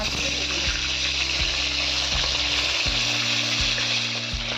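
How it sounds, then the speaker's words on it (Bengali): A katla fish head fries in hot oil, a loud, steady crackling sizzle that continues without a break, with a low rhythmic hum beneath it. "মাছের মাথাটা ভাজা হয়ে গেছে, এবার তুলে রাখবো।"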